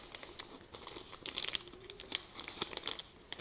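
A chocolate bar wrapper, Chuao Ravishing Rocky Road, is torn and ripped open by hand, giving close, crinkly crackles and short tearing bursts that come in uneven clusters, with no talk over them.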